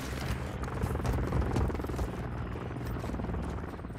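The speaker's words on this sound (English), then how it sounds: "Enemy Overwatch Helo inbound." Enemy Overwatch helicopter in Call of Duty: a steady, loud low rotor thrum fills the whole stretch, dense and continuous with no voices over it.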